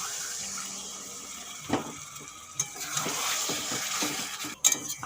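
A splash of water goes into a pan of frying potatoes and eggs for egg biryani, bringing a burst of bubbling sizzle followed by stirring scrapes and a few sharp utensil clinks against the pot.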